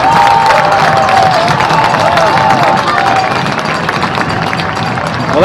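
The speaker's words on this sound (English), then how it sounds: "Well, that gets a round of applause." A stadium crowd at a USL playoff soccer match, Charleston Battery against Richmond Kickers, breaks into steady applause and cheering after a shot, a loud continuous wash of clapping beneath a commentator's voice.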